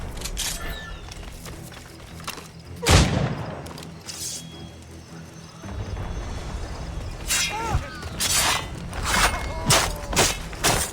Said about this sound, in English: Is that a ship mortar?